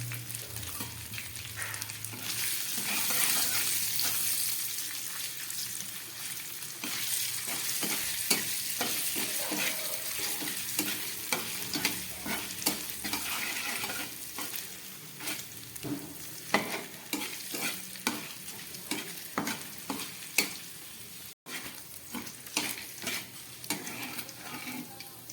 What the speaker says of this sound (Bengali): তেলটা গরম হয়ে গেছে, আমি পনিরগুলোকে ভেজে নিচ্ছি।